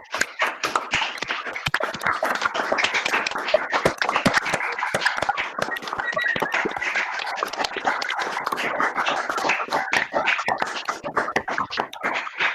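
Participants in an online meeting clapping over their open microphones for the presenters, a dense, uneven patter of separate hand claps close to the mic, continuous for about twelve seconds.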